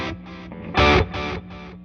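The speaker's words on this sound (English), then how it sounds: "The delay now sounds like this." An electric guitar plays through a delay pedal placed in the effects loop of an Egnater Tweaker amp, with distorted gain-channel chords repeating in rhythmic echoing bursts, loud and close, with no talking.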